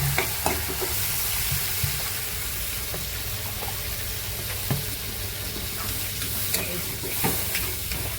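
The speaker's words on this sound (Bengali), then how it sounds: "মশলাটা এবার ভালো করে কষা হবে, করতে করতে তেল বেরিয়ে যাবে।" Spice paste sizzles and spatters in hot oil as it is stirred for a rohu fish curry, a continuous loud frying hiss with frequent small pops and spoon scrapes.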